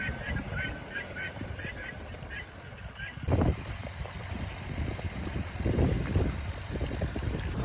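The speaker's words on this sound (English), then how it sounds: "Sorry about the wind, it's super windy out right now." Strong wind on a farm buffets the microphone in a heavy low roar that surges in gusts, with ducks or geese honking in the background early on.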